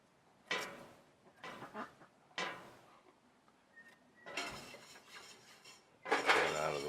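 A utensil scrapes the inside of a home-brewing pot during a honey saison brew, making a few separate metallic scrapes with pauses between them, then a louder clatter at the end.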